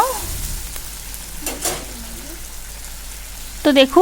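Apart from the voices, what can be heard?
stirring and frying ginger, poppy seed and green chilli paste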